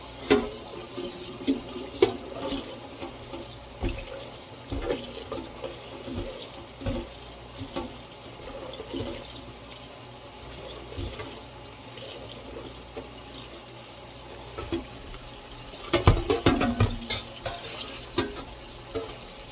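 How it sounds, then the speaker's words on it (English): Running tap water splashes over dandelions in a strainer, an uneven close rinsing with intermittent spatters and a louder gush near the end. "Rinse them off really good."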